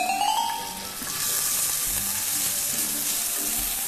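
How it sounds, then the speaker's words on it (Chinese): Seasoned beef hits a hot pan and sizzles steadily as it is stir-fried, a bright close hiss with scraping stirring sounds underneath and occasional low knocks, continuing without speech. "我们炒一下这个牛肉"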